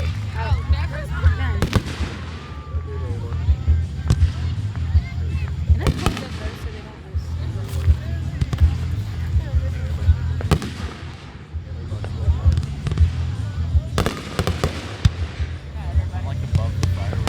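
Fourth of July family fireworks show, with repeated bursts and crackling pops at irregular intervals, fairly loud throughout, over a low steady rumble and occasional people talking nearby.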